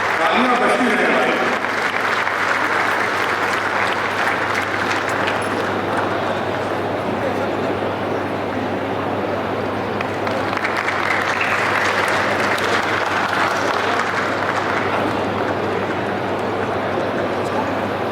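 A crowd applauds steadily at an oath ceremony for newly elected district officials and executive members, with long, unbroken clapping throughout and voices audible beneath it.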